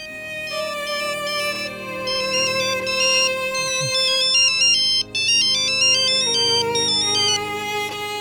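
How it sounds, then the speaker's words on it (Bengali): A mobile phone rings with an incoming call, playing a bright melodic ringtone that repeats for about eight seconds, loud and close, with one brief break partway through. "তোর মা ফোন দিছে।"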